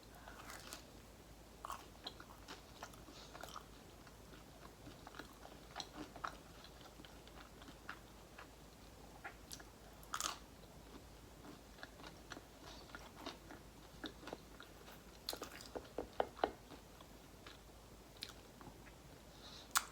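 Crunchy oven-baked pizza rolls and bagel bites are chewed close to the mic, with sharp crisp bites and crackling crunches coming in irregular bursts against a quiet background.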